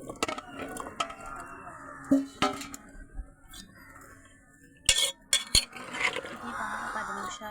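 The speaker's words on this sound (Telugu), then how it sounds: "ముందుగా తరిగి పెట్టుకున్న గుమ్మడికాయ ముక్కలు వేసేసుకుంటున్నాం." Chopped pumpkin pieces drop into a cooking pot of cooked dal for pumpkin payasam, giving a few sharp clinks and knocks against the metal over a low kitchen background.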